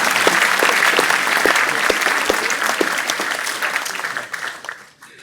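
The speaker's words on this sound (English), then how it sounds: "Applause, please." Sustained audience applause at an academic-year opening ceremony, a dense, steady wash of clapping from a large crowd that carries on throughout and fades away near the end.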